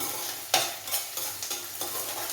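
Steady sizzle of banana stem frying in a pan for pickle, with a few sharp scrapes and knocks from stirring at irregular intervals.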